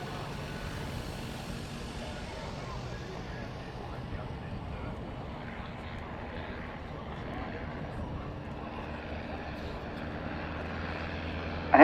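Two aircraft charge toward the crowd at the RAF Cosford 2018 air show, producing a steady, distant engine roar that stays level throughout, with some wind buffeting on the microphone.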